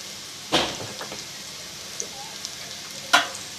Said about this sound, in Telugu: కారం పసుపు వేసుకున్నాక బాగా కలిపేసుకోవాలి.